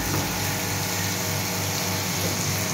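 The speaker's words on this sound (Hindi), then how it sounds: "वॉशरूम वाला पानी बंद कर," Water runs steadily from a washroom tap in a home, a constant broadband rushing hiss that fills the whole clip with no pauses and no voices.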